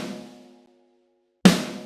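A single snare drum sample with a Pultec EQ boost in the low end rings out and decays, then a second hit cracks in after a gap of silence, punchy and close.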